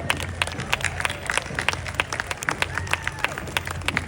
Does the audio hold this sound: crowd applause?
yes